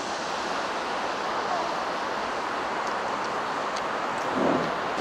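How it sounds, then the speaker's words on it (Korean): Water from an artificial waterfall at Hongjecheon stream rushes in a constant broad roar, steady and fairly distant, with faint outdoor noises over it. "제가 오늘 온 곳은 홍제철 인공폭포라고 불리는 곳인데"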